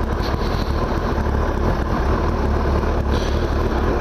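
A Suzuki Hayabusa motorcycle engine rumbles loudly and continuously in Japan, a rough, gritty idle close by with no talking.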